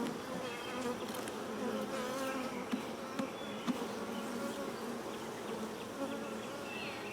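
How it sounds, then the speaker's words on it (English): Dense, steady droning of many honey bees, drones among them, swarming around hive frames during an open-hive inspection, a close continuous buzz with scattered louder passes near the listener. "I'm seeing drones and I'm seeing, well, just a lot of bees."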